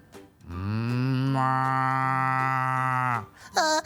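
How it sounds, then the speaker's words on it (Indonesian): A cow lets out one long, loud, close moo lasting about three seconds, followed by a brief second call, with no talking. "terus ada sapi."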